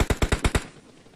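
Rapid automatic gunfire in the video game PUBG, six sharp shots in quick rhythm followed by a fading tail, loud and close with no voices over it.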